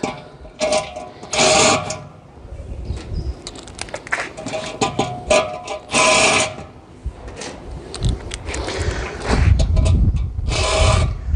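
A rattle gun drives 13mm bolts through a rubber gasket while an AT mixer bowl is assembled. It gives several sharp, loud ratcheting bursts of a second or so each, separated by quieter clicks and handling noise.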